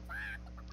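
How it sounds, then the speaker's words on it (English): A short, squawking bird-like call sounds once as the Angry Chicken card plays in the Hearthstone card game, heard clearly over steady low game background sound. "Angry chicken."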